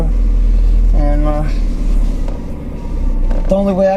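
A Mazda Miata on a test drive, with a low engine rumble and a couple of revving rises in pitch under the cabin noise.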